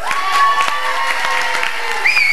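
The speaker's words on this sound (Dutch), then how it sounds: "Applaus voor uzelf." An audience at a live stage show applauds, a dense, continuous wash of clapping with a few cheers, loud and close, while a tonal whine sounds above it.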